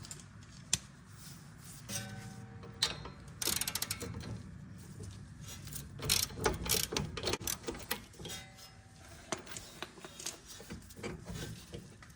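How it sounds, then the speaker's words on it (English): Ratchet loosening a 17mm bolt on a 2012–2017 Toyota Camry front sway bar link, rapid clicking pawl bursts in quick strokes, close and clear with metallic taps between. "So to open the 17mm bolt, I'm securing the back with these vice grips, and I'll open this with a ratchet."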